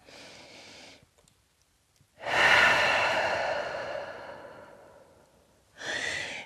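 Slow, deep breaths during a downward dog yoga pose: a softer exhale, a pause, then a long, loud breath in and out, followed by another breath starting at the end.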